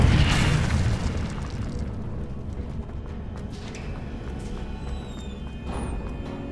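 A fire spell cast in the game Hogwarts Legacy bursts out loudly at the start, a booming flare that settles into a steady, crackling roar with small pops and a few bright sparkles.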